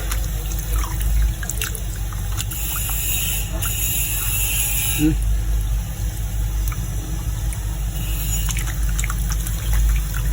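Water running steadily from a tap over chicken, a continuous splashing rush with faint clinks and a low background rumble.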